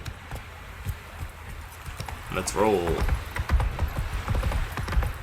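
A horse's hooves clip-clop rhythmically in the video game Witcher 3, a steady close gait running the whole stretch while someone talks over it.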